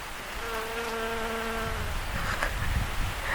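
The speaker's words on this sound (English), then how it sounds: "Look at those bees. They're so" Honeybees buzz around a sunflower on a country farm in autumn, a close, steady insect drone with a few clear tonal hums rising over soft outdoor background noise.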